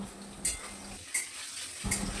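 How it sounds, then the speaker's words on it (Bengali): Potato and papaya pieces frying with salt and turmeric in a pan make a quiet sizzle, broken by three brief metallic clinks of a utensil against the pan, with no voices. "এরপর সামান্য নুন হলুদ দিয়ে মিশিয়ে নিয়ে মিনিট খানেক ভেজে নেব।"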